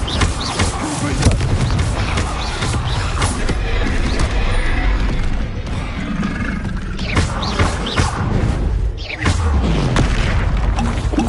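Repeated Confringo spell explosions in a Harry Potter video game, a dense run of loud booming blasts and rumbling impacts piling up almost continuously through the battle.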